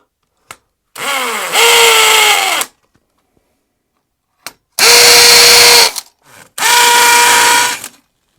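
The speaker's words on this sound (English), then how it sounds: "So they've drilled out, so we'll just drill them" Three loud bursts of a power drill whine close by, each revving up and cutting off, separated by brief silences.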